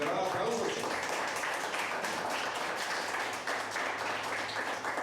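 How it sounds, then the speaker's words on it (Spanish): A church congregation applauds loudly and steadily, a dense, sustained wash of many hands clapping at once that holds at full strength without a break. "Un gran aplauso, Señor."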